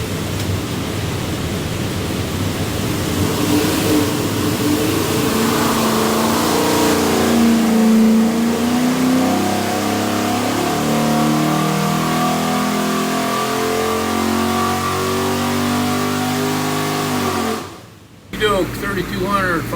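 Stack-injected big block Chevy V8 with a hydraulic roller cam revs hard on an engine dyno, a loud sustained roar climbing through the pull before cutting off abruptly near the end.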